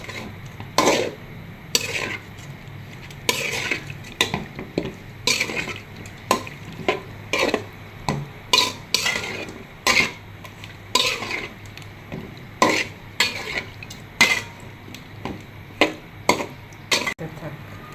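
Spoon scraping and clinking repeatedly in a pan as tomato, ginger and garlic are stirred together with salt, a steady irregular rhythm of knocks over a faint sizzle, close by with no talking.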